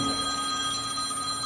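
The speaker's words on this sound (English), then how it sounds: "The Albert's phone. What do we do? Answer it." A telephone rings with a sustained electronic bell tone, steady and close, with no voices over it.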